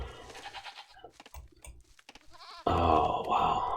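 Sheep bleating in the Age of Empires strategy game, several wavering bleats standing out clearly against game ambience, ending in a louder burst of in-game noise.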